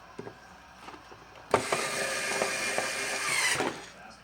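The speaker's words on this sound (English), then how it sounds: "I'm going to use a power screwdriver here to speed up the process a little bit" A power screwdriver drives screws during a battery replacement, its motor whirring in one sustained close burst of about two seconds with a ratcheting edge, set between quieter handling clicks.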